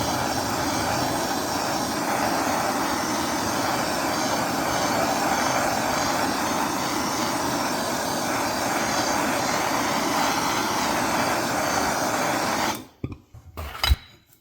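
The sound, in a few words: heating the outside of a John Deere carburetor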